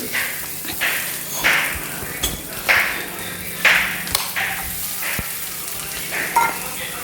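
Curry leaves and chopped onions fry in a pan while being stirred, with repeated scraping strokes of a spoon over a steady, fairly loud sizzle.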